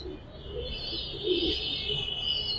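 Pigeons in an LRB loft coo softly and steadily, a close, low murmuring call with faint chirps above it, continuous and alone.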